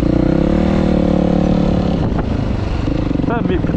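A motocross dirt bike rolls slowly down a steep slope on a cross track, its engine a loud, close, low burble with a few small revs near the end.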